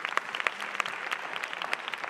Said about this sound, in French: Bonne main d'applaudissement, s'il vous plaît.